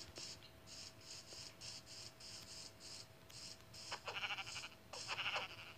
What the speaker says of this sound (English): Let's kill the sheep just for food.